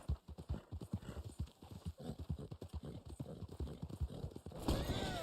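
A horse gallops with fast, rhythmic hoofbeats in the video game Red Dead Online, then lets out a loud whinny near the end.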